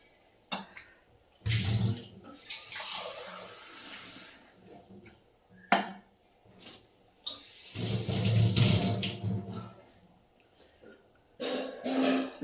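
Tap water runs in a kitchen sink during washing up, in several separate bursts of splashing and hissing flow broken by short pauses, with a clatter in between.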